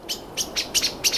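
Common blackbirds scold a roosting Ural owl in pine woods: sharp, rattling alarm chatters in about five quick bursts, moderately close and clear against quiet background.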